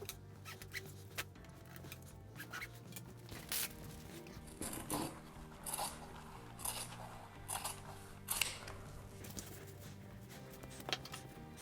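Scissors cutting fabric for a sewn strap on a concrete doorstop, with quiet, close snips in a loose, irregular rhythm and soft rustling between cuts.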